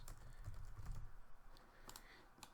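Quick computer keyboard typing while entering a name on an isometric drawing of a control bearing, a brief flurry of light, close key clicks with no talk.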